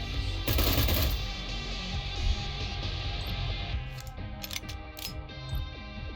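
Gunfire in the tactical game Cyber Knights: Flashpoint, a loud burst of rapid shots up front followed by clicking, ratcheting mechanical weapon sounds and sharp metallic ticks, with no talking.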